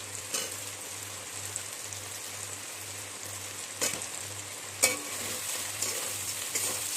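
Fish fries in a pan for a brinjal and potato fish curry with poppy seed and milk cream, giving a constant crackling sizzle with occasional sharp spatters over a low hum.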